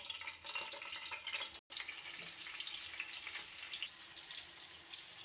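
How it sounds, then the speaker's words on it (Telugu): Stuffed brinjals for Andhra-style gutti vankaya curry go one by one into hot oil in a pan, giving a steady close sizzle and crackle with a brief drop in the noise partway through. "ఆయిల్ కొద్ది హీట్ అయిన తర్వాత వంకాయల్ని 1 బై 1 వేసుకోవాలండి."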